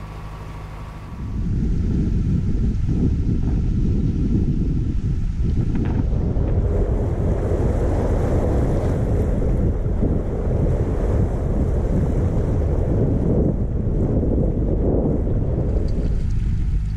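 A narrowboat moving along the River Trent, with steady, loud wind buffeting the microphone and the broad wash of water and waves against the hull running continuously throughout, no voices.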